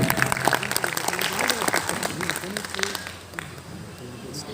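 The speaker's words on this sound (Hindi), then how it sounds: "बहुत जोरदार तालियां होनी चाहिए" Loud applause from an audience at a three-day constitution fair in Raigarh welcomes a guest, dense clapping that gradually thins over several seconds while a voice talks over it.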